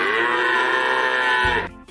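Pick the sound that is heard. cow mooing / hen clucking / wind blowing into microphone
cow mooing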